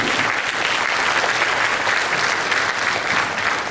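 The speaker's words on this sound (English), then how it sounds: "give that a round of applause" A concert crowd claps steadily and loudly throughout, a dense, sustained round of applause with no pauses.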